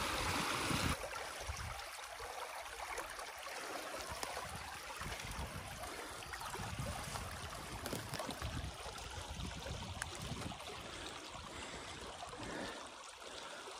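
Water pours steadily through a gap in a beaver dam, a continuous gurgling, rushing flow heard close at moderate level without any voices.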